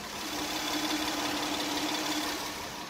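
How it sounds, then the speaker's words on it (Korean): A 2015 Hyundai Grandeur HG 3.0 GDI engine idles steadily up close with the hood open, a smooth, even hum with a faint low tone running throughout and no voices. "바로 가까이서 엔진 사운드 담아드리도록 하겠습니다"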